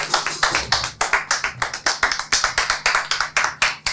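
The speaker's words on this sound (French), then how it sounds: "On va commencer par l'applaudir pour l'aider à se lever." Audience members at a Saturday evening live stage show clap together in a loud, close, rhythmic beat, sharp evenly spaced hand claps repeating steadily for several seconds.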